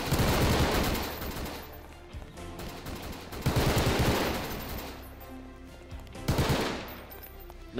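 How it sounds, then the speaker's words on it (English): Sustained gunfire in a GMod video game battle, dense rattling automatic bursts swelling in three loud waves over a continuous roar, with no talk over it. "Keep on firing, Jones!"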